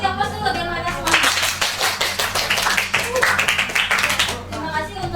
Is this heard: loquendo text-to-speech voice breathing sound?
no